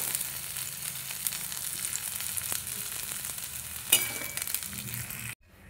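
Potatoes frying in oil in a kadai give a steady close sizzle with light stirring scrapes and one sharper clatter near the end before the sound cuts off abruptly.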